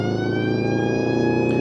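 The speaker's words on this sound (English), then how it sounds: "Time for the siren now." A police car siren wails loudly and steadily in the BeamNG.drive driving game, a sustained close tone layered over a running car engine.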